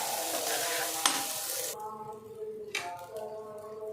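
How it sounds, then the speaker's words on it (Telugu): Cooked rice is stirred into a frying egg mixture for egg rice, with a soft sizzle and spatula strokes scraping the pan. The sizzle drops away partway through, leaving quieter stirring and a few sharp scrapes. "ఇప్పుడు రైస్ వేస్తున్నాను. మొత్తం కలిసేలాగా కలుపుకోవాలి"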